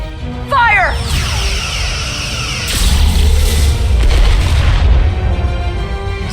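Starship weapons fire in the Star Trek: Resurgence game, a swelling roar with crackling bursts and a heavy rumbling blast that sustains for several seconds, loud and close.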